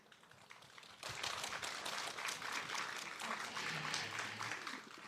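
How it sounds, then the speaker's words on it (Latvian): An audience at the Lampa talk festival breaks into applause after a quiet opening second, with dense, lively clapping sustained to the end; a faint voice hums underneath. "paldies par aplausiem"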